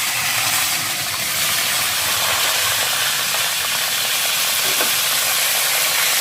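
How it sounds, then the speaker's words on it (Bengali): Whole green chilies frying in oil with nigella seeds in a wok, a loud, continuous, dense sizzle and hiss that stays steady throughout, close by with no talking. "এবার এই যে ধুয়ে রাখা যে লঙ্কাগুলো এগুলো এখন হালকা করে ভেজে নিতে হবে।"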